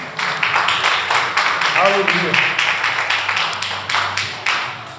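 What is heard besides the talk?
congregation applause in church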